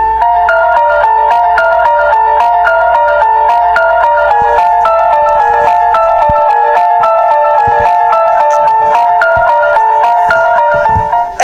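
A theme from the video game Undertale plays as a steady, loud melodic loop of bright chime-like tones with a low drone under it, continuing alone without any talk.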